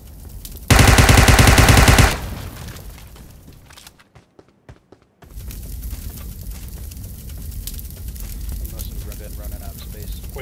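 PUBG Mobile gunfire: a loud, dense burst of automatic fire lasts over a second, followed by quieter game sounds and a short near-silent gap, with a person talking through much of it.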